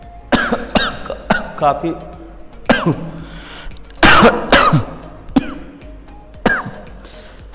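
A man with a cold coughs and clears his throat several times in short bursts between stretches of his own speech, close to the microphone.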